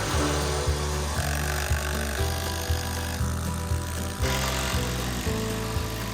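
A power drill drives GRK screws into a wooden post on a DIY home build. The motor whines loudly and steadily, in repeated bursts that rise and settle as each screw goes in.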